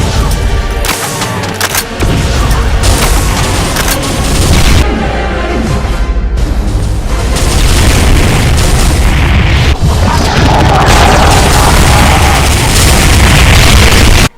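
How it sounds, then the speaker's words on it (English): Heavy plasma shots fired in spreads in a Doom mod, loud booming bursts and blasts crowding together with explosions and dense gunfire, nearly continuous and very loud. "It shoots spreads of legendary plasma shots."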